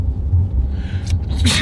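A single sharp sneeze bursts out near the end of a short stretch of low, murmuring room noise, close and fairly loud.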